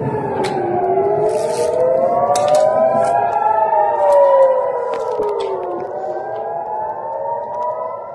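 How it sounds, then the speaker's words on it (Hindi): Several air raid sirens wail at once in an Israeli city under missile attack, their pitches rising and falling in overlapping slow sweeps, loud and continuous with faint distant pops. "सायरन बजने की आवाज जो है वो तेज हो गई है"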